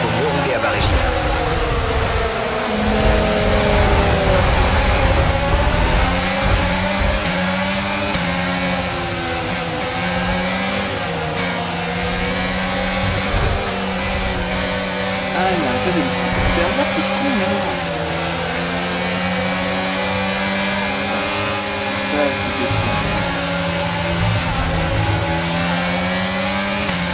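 F1 car engine in the video game F1 22 running at low revs, a steady buzzing drone with shifting harmonic tones and small pitch rises and dips, continuous and loud, with a commentator talking over it.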